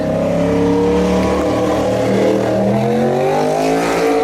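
A V-twin motorcycle engine revs hard as it goes by, a loud throaty roar whose pitch climbs and shifts, fairly close.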